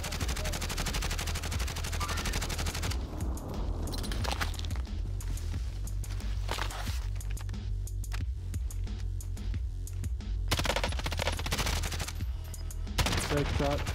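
Rapid bursts of automatic gunfire crackle loudly and almost without pause in Call of Duty: Modern Warfare Warzone, mixed with single sharp shots and brief gaps between volleys.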